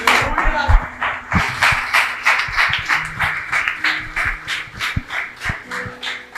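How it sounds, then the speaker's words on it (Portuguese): Congregation in a church clapping rhythmically in a steady, even beat, fairly close, with a voice speaking over the claps. "Aplauda o nome do Senhor Jesus."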